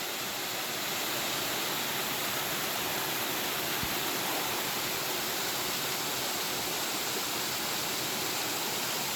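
Water pours steadily over Greasy Creek Falls, a small waterfall, in a constant rushing hiss without pause, moderately close and even in volume.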